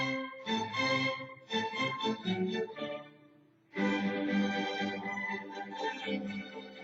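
Mozart's Eine kleine Nachtmusik plays as a string ensemble with lively bowed phrases, a short pause and then a fuller passage, moderately loud and without talk.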